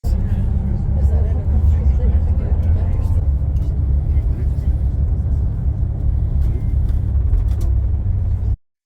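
A tour bus driving through the Icelandic countryside, its engine and road noise forming a constant heavy low rumble heard from inside the cabin, steady and loud until it cuts off abruptly, with faint murmur of passengers underneath.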